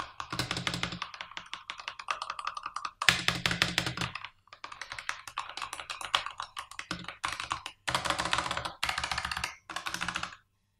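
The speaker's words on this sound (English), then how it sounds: "considering it is quite a loud keyboard" Rapid, loud clacky typing on a Razer Huntsman Tournament Edition mechanical keyboard in bursts of a second or two, with short pauses between runs of keystrokes.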